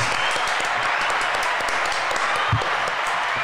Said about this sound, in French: On t'applaudit, ça va de soi.